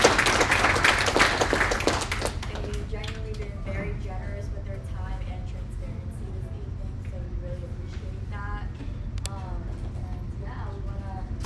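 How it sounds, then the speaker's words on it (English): Audience applause for event panelists, a brief burst of clapping over the first two seconds that quickly dies away, followed by people talking and chatter. "I would like everyone to give all our panelists a round of applause"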